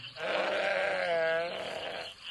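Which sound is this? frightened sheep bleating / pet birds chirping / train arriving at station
frightened sheep bleating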